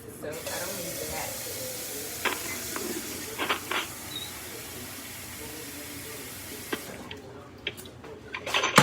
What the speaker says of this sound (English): So get you a pot of water going for your ramen.